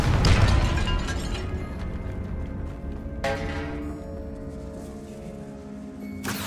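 A Confringo blasting spell explodes in Hogwarts Legacy, a loud close burst at the start that decays into a ringing rumble, with a second sharper blast near the middle and another at the end.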